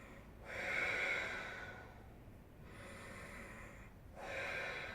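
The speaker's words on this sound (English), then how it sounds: "Deep breaths." Slow, deep breaths during a yoga session, soft and close, with long airy exhales swelling and fading in about three cycles, no talking.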